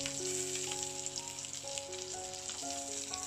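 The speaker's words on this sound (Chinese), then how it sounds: "煎的时候用大火来煎，大约煎它3分钟。" Pork frying over high heat in a covered pan: a steady, dense sizzle and spitting of hot oil and fat, close and continuous, with a faint tonal hum underneath and no voices.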